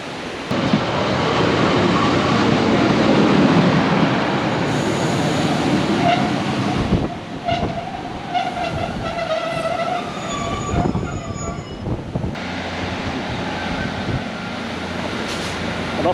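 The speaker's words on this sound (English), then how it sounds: "I believe I see the train. I think it's on its way to Lancaster." A train rolls past on a line headed toward Lancaster in Cumbria, a steady loud rumble of wheels and carriages with brief horn-like tones and squeal in the middle before the rumble settles again.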